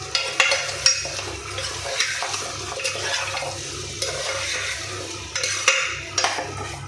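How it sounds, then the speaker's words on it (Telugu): Goat trotters being stirred with salt and turmeric in an oiled pan: steady scraping strokes and a continuous sizzle, close and fairly loud, with repeated clanks of the spoon against the pan. "ఇప్పుడు మనం వేసిన ఉప్పు పసుపు కూడా బాగా కలిసేలా కలుపుకుందాం"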